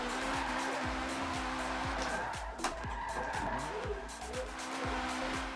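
A 549-horsepower drift car howls on a track, its engine revving hard in steady pulses while the tires squeal and skid continuously, loud and close, with a voice talking briefly over it.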